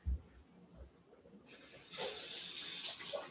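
Red cabbage rinsed under a running kitchen tap: after faint handling bumps, water gushes on and splashes steadily with a hissing spray for about two seconds, close and fairly quiet.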